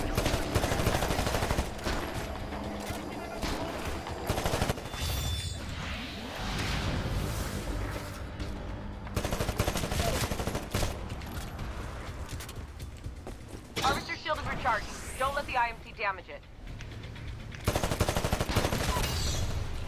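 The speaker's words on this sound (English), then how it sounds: "I'm having a hard time shooting these grunts who are walking at like a jogging pace" Video game gunfire in Titanfall, dense bursts of rapid shots and automatic fire mixed with mechanical clanks and whooshes, loud and continuous with brief lulls.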